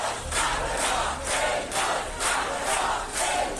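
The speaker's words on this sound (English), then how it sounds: "Iranian climber Elnaz Rekabi was met with cheers and applause on Wednesday" A large crowd cheers and chants at a Tehran airport arrival, welcoming home an Iranian climber, with rhythmic swells of shouting rising and falling throughout, dense and close.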